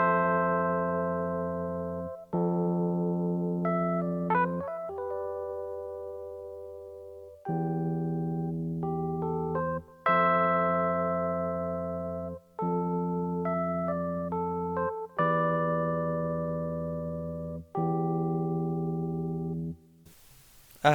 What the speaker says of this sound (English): the electric piano is also from Lounge Lizard and it sounds like this